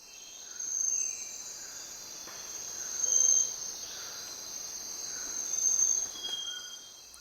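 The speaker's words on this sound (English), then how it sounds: "This is the sound of a tropical forest in Ecuador." A tropical forest in Ecuador is alive with a dense, steady shrill of crickets and other insects, fairly faint and distant, with a few soft swells and faint chirps over the constant buzz.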